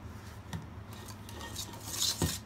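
A whisk scrapes and taps against a bowl while cooled orange tart mixture is beaten before whipped cream is folded in, soft irregular clinks over quiet kitchen background.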